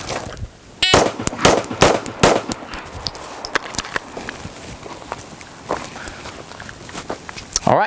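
Gunshots crack sharply while the shooter moves to cover, with several loud, close reports in quick succession among footsteps, followed by scattered fainter impacts and movement noise.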